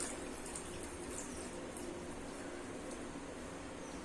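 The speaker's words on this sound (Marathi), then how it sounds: "त्याच्यामध्ये आता गरम झालेलं पाणी टाकून घेऊया ताटामध्ये" Hot water poured onto a plate while cooking chicken rassa, a steady continuous pouring and splashing wash, close and even throughout with no talk.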